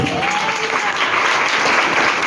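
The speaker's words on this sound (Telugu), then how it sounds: "కొట్టు చప్పట్లు గట్టిగా" A church congregation claps loudly and continuously, a dense roar of hands that carries at the same level for the whole stretch with no pauses.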